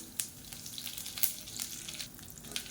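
Mustard seeds, urad dal, red chilies and curry leaves fry quietly in oil, a soft continuous sizzle with light sputtering pops scattered through, close but faint and without speech.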